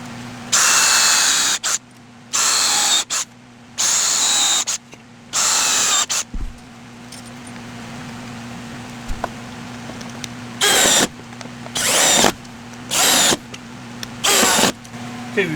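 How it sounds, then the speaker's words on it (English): Power drill driving screws into a wooden cabinet in a woodworking shop, heard as a series of loud whirring bursts of one to two seconds separated by pauses, over a steady low electrical hum. "I'll sink some screws in while this glue is still setting up"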